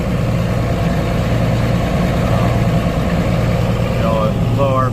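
An Allis Chalmers 7060 tractor engine idles steadily after break-in, a constant low rumble running throughout with someone talking over it.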